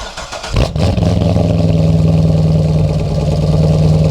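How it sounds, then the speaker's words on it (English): A stock Chevrolet C6 Corvette V8 with dealer-option NPP mufflers cold-starts: a brief starter crank and catch, then a steady, fairly quiet high idle that holds close by. "this is the last cold start of my C6 Corvette being stock"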